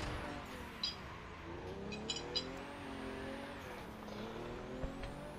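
A car drifting in The Crew 2 racing game, engine whine rising and falling with sweeping tire squeal, moderately close and continuous, with a few brief clicks over a fairly quiet background.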